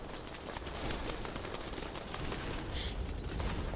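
Popping from a popcorn-themed item in a video game rattles continuously like muted gunfire, a soft, quiet stream of rapid ticks and clicks without voices.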